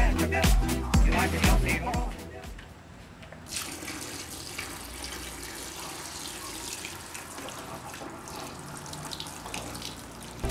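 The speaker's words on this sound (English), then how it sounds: "I gotta wash this lead a few times to get all the sodium off of it." Distilled water runs from a tap as lead from a car battery is rinsed, first with clattering knocks and splashes, then a steady hissing stream of water.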